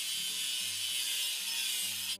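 A toy-play grinding sound on the welding seam of a technical railway car, a continuous harsh hiss with a faint rattling undertone, steady and close for about two seconds with no talking.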